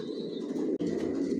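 Racing pigeons cooing softly in a loft, a low murmuring coo running continuously and close by, with a faint brief flutter midway.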